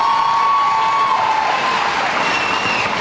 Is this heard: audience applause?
yes